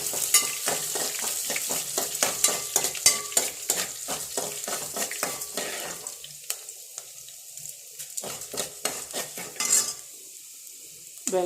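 Onions go into a hot pan for upma and are stirred, giving rapid scraping and clattering strokes with a sizzle beneath that thins out toward the end, close and fairly loud, with no talking.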